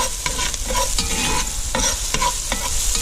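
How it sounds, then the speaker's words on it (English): Chili with meat from a five-year-old jar sautés in a pan, a steady close sizzle with bursts of stirring and scraping through the pan, no talking. "it was sauteing too fast"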